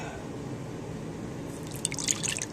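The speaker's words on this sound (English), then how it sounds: "I'm going to pour this into the mold," Liquid clay slip poured into a plaster mold for slip casting, a quiet low trickle that turns into brighter dripping and splashing near the end, with no talk.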